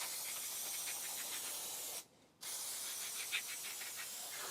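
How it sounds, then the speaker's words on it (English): Close, loud hissing spray from an aerosol brake cleaner can on Audi Q3 rear brake parts, one long burst, a brief pause, then another sustained blast. "we are going to spray it with a brake cleaner"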